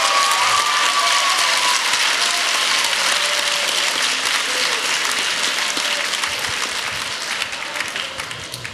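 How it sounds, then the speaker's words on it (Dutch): Warm, continuous applause from a large audience, loud and even throughout, with a faint cheer early on and a slight fade at the close. "mag ik even een heel warm applaus voor Segerd Buitendijk"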